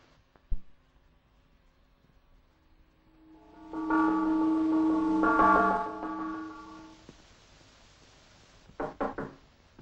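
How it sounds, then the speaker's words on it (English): In a 1953 British film scene, a butler strikes a gong before dinner; it rings out with a rich, sustained metallic resonance for a couple of seconds, preceded by a knock and followed by a few quick knocks. "I'm just about to sound the first gong, sir."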